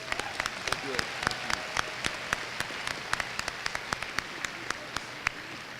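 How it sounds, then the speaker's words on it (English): Scattered clapping from a small audience at a winter homecoming ceremony, about twenty sharp individual claps, fairly faint and uneven, with some talk underneath. "Let's give another round of applause for our guest speaker."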